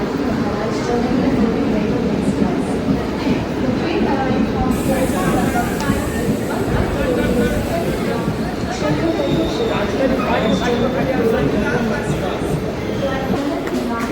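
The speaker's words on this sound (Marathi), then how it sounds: "या साईडला पण ट्रेन आहे" A train rumbles along with a constant low roar and rattling, while people nearby talk and chatter over the noise.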